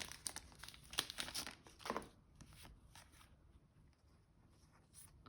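Close crinkling of a thin plastic packet of board game cards as it is handled and torn open, crackling in short bursts before fading to quieter rustles.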